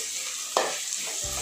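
Onions and coconut pieces frying in a pan, a steady bright sizzle with a brief stirring scrape partway through, close and alone.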